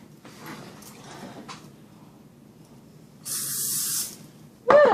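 A steady aerosol hiss of zero-calorie cooking spray lasting about a second, close by, following some quiet handling noises, then a sharp knock at the end, while making chicken pot pies.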